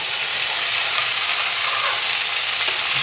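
Okra (bhindi) frying in a pan for a spicy achari bhindi onion dish, with a loud, continuous close sizzle and faint stirring under it.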